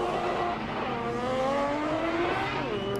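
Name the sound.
BMW E46 and Nissan S13 drift cars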